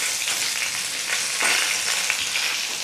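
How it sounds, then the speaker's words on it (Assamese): A dried chili sizzles in hot oil in a pan with a fish head as it is stirred, a dense close crackling fry with soft scraping of the stirring, continuous throughout. "আৰু এতিয়া ইয়াতে মই শুকান জলকীয়া এটা দি দিছোঁ, ভালদৰে লৰাই দিছোঁ।"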